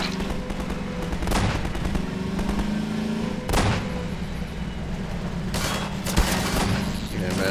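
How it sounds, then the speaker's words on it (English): Combine soldiers firing at a player who drives toward them in Half-Life 2: rapid bursts of gunfire and sharp explosive cracks keep up a loud, dense barrage throughout. "Just listen to how a Combine soldier's gunshots change as you drive towards them."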